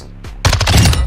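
An MX9 submachine gun in Modern Warfare 2 fires at a firing range: a short lead-in tap, then a rapid burst of about eight loud, close automatic shots in quick succession.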